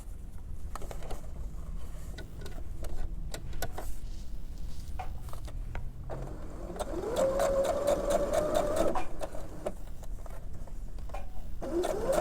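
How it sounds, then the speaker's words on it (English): Close-up whirring of a sewing machine stitching around the top of a fabric scrunchie at a quarter inch, running in short stop-start bursts with small clicks and rustling of fabric between runs. "we are going to sew all the way around this top at 1/4 of an inch"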